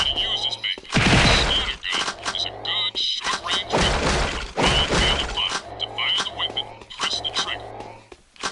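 Gunfire striking targets on a gun practice course in the Jak 2 video game, repeated loud thumping shots and shattering impacts arriving in rapid bursts over music, with speech mixed in.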